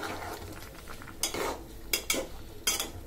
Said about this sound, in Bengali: এবার আমি শুটকির তরকারিটা নেড়ে দিব